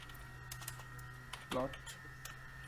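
Quiet computer keyboard typing at a desk during a Python coding session, a few soft scattered keystrokes with one brief louder clatter midway, heard close over a faint steady hum.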